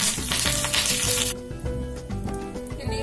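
Curry leaves added to hot oil with mustard seeds, cumin and dried red chillies, a tempering for pakodi kadhi: a loud, dense sizzle and crackle that drops suddenly to a quieter steady frying hiss.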